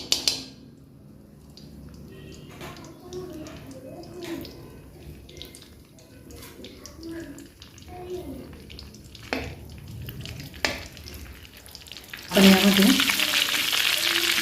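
Onion paste is sautéed in a pan for butter paneer, heard as a quiet intermittent sizzle with utensil clinks and stirring. A louder burst of frying hiss comes near the end, and a voice talks over parts of it.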